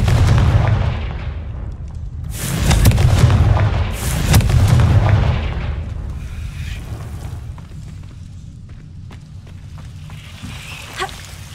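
A fiery Confringo spell explosion in the video game Hogwarts Legacy bursts with deep booming rumbles and crackling blasts, loud and close, swelling twice and then trailing into a lower rumble with faint crackles.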